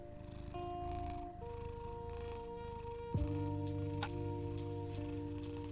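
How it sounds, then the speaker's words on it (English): A cat purrs close by in a low, steady rumble. Sustained electronic or musical tones sound over it, and there is a sudden shift partway through. "Can you hear her purr?"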